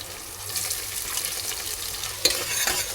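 Finely chopped onion sizzles softly in a hot tempering of oil with green chillies, a faint, steady crackle with light stirring and one sharper clink near the end, with no talking.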